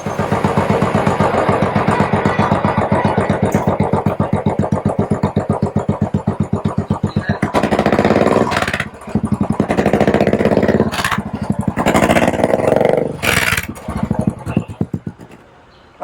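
A 2020 Royal Enfield Classic 500 fitted with a customized upgraded muffler idles with a loud, even thump, then is revved in several sharp bursts before settling back down, close up.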